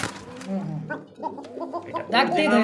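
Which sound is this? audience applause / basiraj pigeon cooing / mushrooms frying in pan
basiraj pigeon cooing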